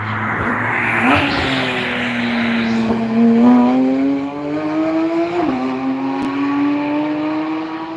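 Cars on the Nürburgring race track, including Dodge Vipers: an engine drones loudly and steadily nearby, its pitch rising as it accelerates, then drops and climbs again through a gear change.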